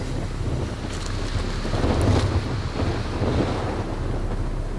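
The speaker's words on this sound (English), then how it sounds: "I don't know whether you can even hear me because of that wind." Strong wind buffets the microphone in a continuous roar, with low rumbling gusts swelling and easing, and no voices.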